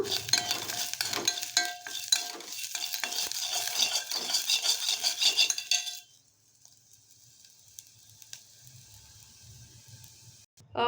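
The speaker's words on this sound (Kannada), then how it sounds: "ನಾನಿಲ್ಲಿ ಹಸಿಮೆಣ್ಸಿನ್ಕಾಯಿ ಹಾಕೊತಾ ಇದ್ದೀನಿ ಇದನ್ನು ಸ್ವಲ್ಪ ಬಾಡಿಸ್ಕೊಳ್ಳೋಣ" Green chillies frying in a pan for mango chutney, with a spoon scraping and stirring in quick rhythmic strokes over a soft sizzle, then the stirring stops and only a faint sizzle remains.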